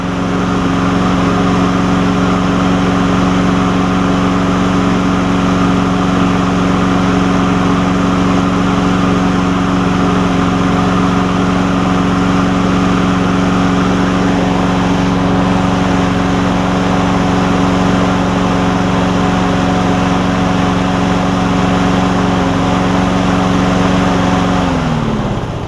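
A lawn mower with a Briggs and Stratton engine on a Craftsman push mower deck runs loud and steady at close range for a long stretch, its drone dropping in pitch as it winds down at the end.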